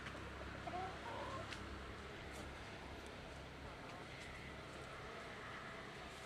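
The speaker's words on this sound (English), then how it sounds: "This is hen." A hen clucks faintly outdoors in a Bangladeshi village, with soft scattered calls over a low rural background hum.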